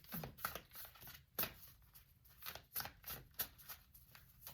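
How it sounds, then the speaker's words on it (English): Riffling and snapping of an oracle card deck being shuffled, a series of quick crisp bursts, close and fairly quiet, with no voices. "To shuffle up the deck real quick."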